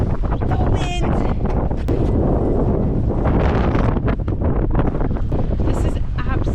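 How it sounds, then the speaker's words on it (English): Strong blizzard wind batters the microphone in loud, continuous roaring gusts around a Tacoma TRD Off-Road truck, with brief flapping and rustling mixed in. "Oh my God, the wind, the wind."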